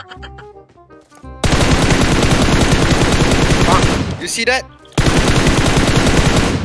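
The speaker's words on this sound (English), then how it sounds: "Kita kalau spray RedDot, pakai spray M4 pakai RedDot" Rapid automatic M4 rifle spray fire with a red dot sight in PUBG Mobile, loud and dense, running in two sustained bursts split by a short gap, after quieter music-like sounds at the start; a voice speaks briefly.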